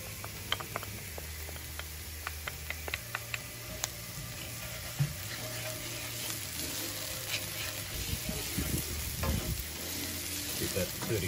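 Onions and a couple of garlic cloves fry in a pan with a steady, close sizzle, broken by sharp scrapes and clicks of stirring throughout.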